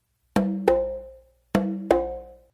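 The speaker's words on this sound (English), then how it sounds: "do an open slap with your non-dominant hand on the conga" Open slaps on conga and tumba drums land in two quick pairs, each a sharp ringing crack with a short pitched decay, played alone and close with silence between the pairs.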